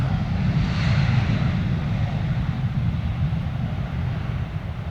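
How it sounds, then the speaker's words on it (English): A landing airliner at Stansted with reverse thrust engaged gives a loud, steady low engine roar with broadband rushing noise, holding strong throughout and easing slightly toward the end. "See, reverse thrust engage there."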